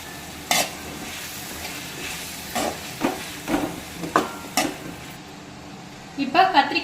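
Brinjal pieces sizzle in a pan with softened tomatoes for a brinjal chutney, a steady frying hiss broken by several sharp scraping stirs, the clatter growing busier toward the end.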